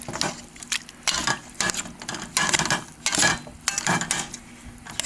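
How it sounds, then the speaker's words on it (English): Chili with kidney beans stirred briefly in a pot, a spoon scraping and clanking against the metal in several uneven bursts, close and clear with no talking. "I'm going to give that just a quick stir"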